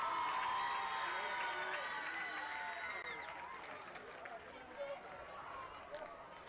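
A crowd in the stands at a high school football game applauds and cheers for senior band members, the broad wash of clapping and voices fading gradually over several seconds, heard from a distance with some shouting in the mix.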